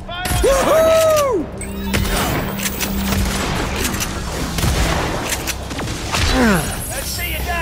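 Rapid gunfire and explosive bursts from the video game Agents of Mayhem fill the stretch, loud and dense throughout, mixed with game effects and with voices talking over the shooting.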